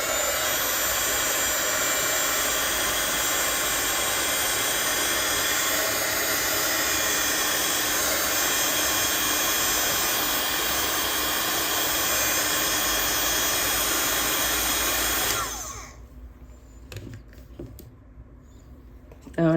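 A hair dryer blows loud and steady at close range while drying watercolor paint, then switches off about three-quarters of the way through. Faint handling noises follow.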